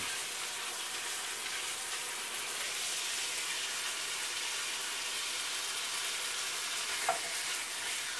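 Beans tossed into a pan of sautéed onions and garlic are stirred, giving a steady broadband sizzle with light scraping throughout and one brief clink near the end, no voices.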